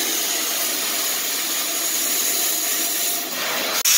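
A cutting torch burns near the microphone during tractor repair work, giving a constant loud hissing roar that barely varies for several seconds before a brief sharp break near the end.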